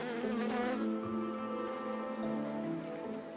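Honeybees hum steadily inside a hive over honeycomb, a dense, continuous buzz of many wings at low volume with no voices.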